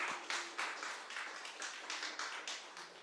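A church congregation breaks into applause, a bright wash of many hands clapping that swells and gently tapers over a few seconds.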